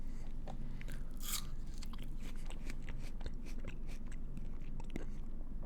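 Someone bites and chews an apple close up, with repeated wet crunches and munching over a steady low background.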